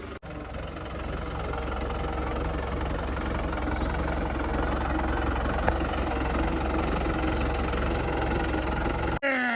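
A new Mahindra 595 Turbo tractor engine runs close by with a steady, even, low diesel drone and a faint knocking pulse, holding constant throughout before cutting off abruptly at the end.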